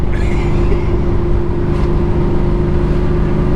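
A 1993 Ford Mustang GT with a swapped 306 engine runs loud and close, holding a steady, heavy rumble with a slight rise in revs and no speech.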